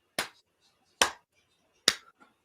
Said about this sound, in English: I'm gonna give you 3 claps for that.